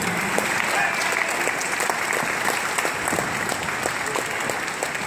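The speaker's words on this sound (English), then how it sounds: "Give him a round of applause, ladies and gentlemen" A concert audience applauds steadily after a rock and roll performer's song, a dense, sustained wash of clapping that holds at an even level from start to finish.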